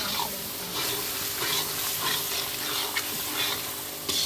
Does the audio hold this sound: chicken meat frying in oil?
yes